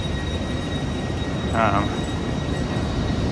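Steady station ambience on a King's Cross platform before an Edinburgh-bound train, with a constant background rumble and hum, a brief louder burst mid-way, no speech.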